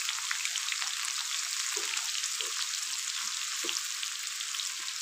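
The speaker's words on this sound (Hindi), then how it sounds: "हमने घी रख दिया गरम हो गया डालते हैं प्याज" Onions fry in hot ghee with a loud, continuous hissing sizzle, with a few soft knocks and stirring sounds and no speech.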